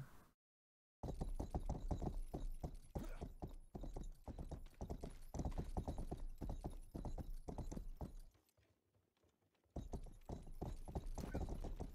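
Horse hooves clip-clopping in the video game Rustler, a quick steady trotting rhythm of hoof beats, close and clear, briefly dropping out before resuming.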